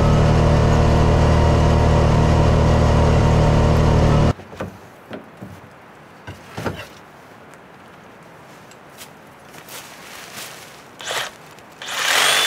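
A UTV engine roars loud and close for about four seconds during a test run on a field, then cuts to quieter outdoor noise with scattered knocks and rustles.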